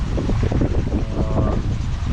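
Steady wind gusts roar across the microphone aboard a sailboat crossing a calm atoll lagoon at Fakarava, a dense, continuous rumble with no talking.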